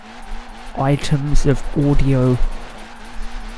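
A Vauxhall Corsa tuned for drifting in Forza Horizon 4 gives off a low engine drone and faint tire noise. The car sits beneath a voice, which dominates most of the moment.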